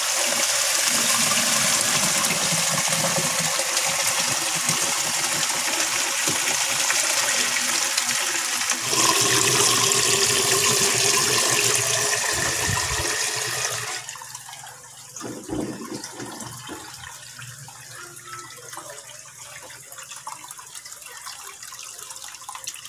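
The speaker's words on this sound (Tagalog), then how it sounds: "Ngayon, on na po natin yung pump." A pond filtration pump is switched on and water rushes loudly through the filter chamber, a strong steady gush that cuts off abruptly partway, leaving faint trickling and handling knocks.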